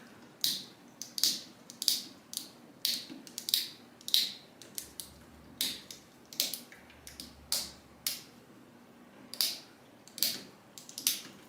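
Plastic drag chain links on a 3018-Pro CNC spindle upgrade are pressed shut one after another, giving a steady run of sharp, close snapping clicks about every half second.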